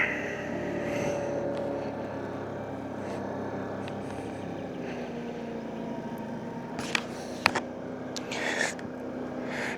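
Baotian moped engine runs steadily through a test ride on the road, holding a continuous mid-level drone with a few sharp clicks and bumps near the end and no talking.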